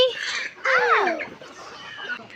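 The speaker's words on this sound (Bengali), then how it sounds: "দেখছো কত মুরগি" Chickens cluck loudly and close by on a small farm with ducklings and goats, in a couple of quick bursts. A person's voice runs underneath the clucking.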